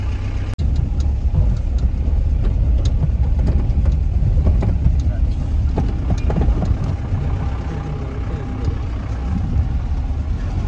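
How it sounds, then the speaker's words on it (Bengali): Vehicle engines rumble continuously as cars labor along a bumpy mountain road to Rock Garden, Darjeeling, with low droning and occasional knocks throughout. "সমস্ত স্ট্রাগলিং করে করে গাড়িগুলো কিন্তু রক গার্ডেনের উদ্দেশ্যে যাত্রা করছে।"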